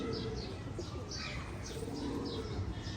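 Firozpuri pigeons cooing in a loft, a steady series of soft repeated coos with a few chirps, close and continuous against a busy background hum, no talk.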